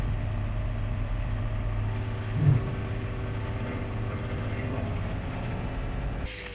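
Inside a car with a soundproofed bonnet, the engine hums as a low, steady, muffled drone while held near 2000 RPM, with a faint thump midway and the sound cutting off at the end.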